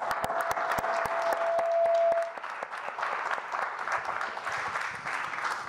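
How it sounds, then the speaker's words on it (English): An audience at a talk about the humanitarian situation in Aleppo claps steadily in dense applause, loudest at first then easing slightly but continuing to the end, with faint voices mixed in. "I would like to give you guys a round of applause"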